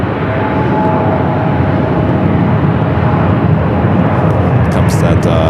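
An Embraer jet at Phoenix Sky Harbor airport roars loudly and steadily, a broad continuous engine rush that fills the whole span without pause.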